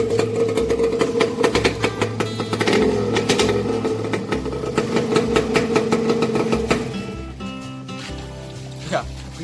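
A two-stroke motorcycle fitted with a snail-shaped exhaust starts and settles into a loud, buzzy, uneven idle with rapid popping pulses, then drops off near the end, with someone talking over it.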